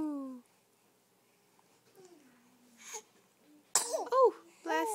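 A baby of about two months sneezes, a short sharp burst followed by small babbling squeaks, with soft vocal sounds before it.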